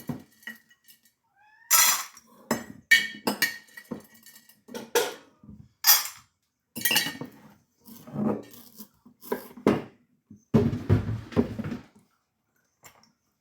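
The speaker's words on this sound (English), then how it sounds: "There will be meows aplenty very shortly" A cat meows repeatedly in a kitchen, in scattered bursts among clinking cutlery and pans, with quiet gaps in between.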